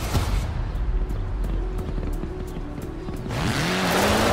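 A stunt car driving in Forza Horizon 4 revs steadily with a continuous engine drone, the pitch climbing and surging louder toward the end as it accelerates, with no talk.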